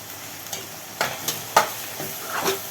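Okra frying in oil with turmeric and coriander powder, stirred with a spoon on low heat: a soft steady sizzle with several sharp scraping and clinking stirs spaced about half a second apart, no voices.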